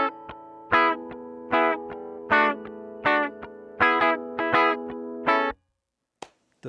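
A Gibson Memphis ES-175 hollow-body electric guitar on its bridge pickup with the treble cranked plays rhythmic strummed chords through effects, bright and close. The playing stops with a short pause and a faint scrape at the end.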